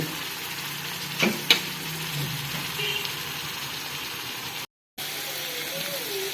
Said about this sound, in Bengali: এরপর আবার ডিম বুনা করে নিচ্ছি